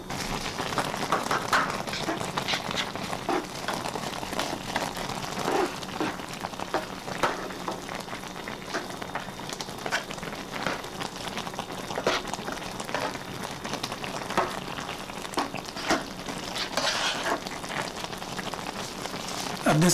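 A pan of herring fish soup simmers with a steady bubbling, spattering sizzle that stays fairly close and even, with slight swells as the pan is slowly shaken.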